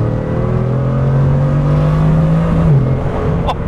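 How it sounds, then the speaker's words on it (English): Bugatti Chiron engine revving under a light throttle tap, a loud, close, deep hum whose pitch climbs smoothly before dropping back, with a brief click near the end. "even just tapping the throttle, you can hear the engine start to do its thing"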